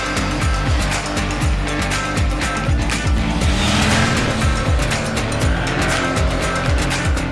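A car engine pulls hard under open throttle, a loud, gritty roar with rapid repeated rising sweeps and harsh crackle throughout, close and continuous.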